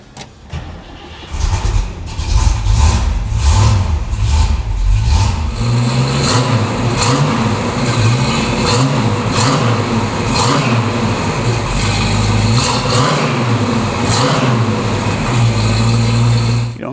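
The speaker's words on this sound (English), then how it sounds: "how about I start it for you so you can hear what it sounds like?" A 1969 Chevrolet Camaro SS 396 V8 cranks over and fires, settling into a loud, close idle, then gets blipped through a series of rhythmic revs that rise and fall repeatedly, with no talking.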